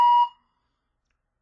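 A single clean electronic beep marks the start of a speaking test, a short steady tone lasting about a quarter second that cuts off sharply into silence.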